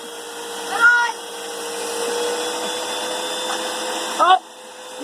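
A household vacuum cleaner runs steadily and close by, its constant whine shifting slightly as it sucks up clothes, while a voice chirps over it near the start and end.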